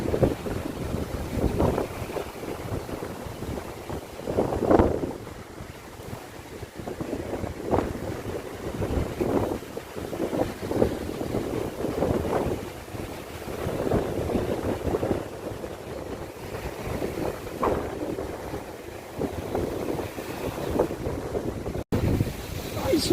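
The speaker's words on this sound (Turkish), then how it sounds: "Deniz ve rüzgar." Steady wind gusts roar and buffet the microphone by the sea, with a low rumble of water beneath and no voices.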